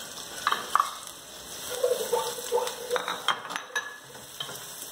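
Chopped onion sizzling in a pan as a large spoon scrapes and stirs it, with a steady frying hiss and irregular clinks and scrapes close by.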